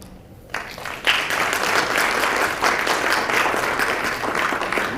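Audience applause fills a hall at an international Sikh research summit, starting after a brief quiet moment and continuing as steady, dense clapping from a large crowd.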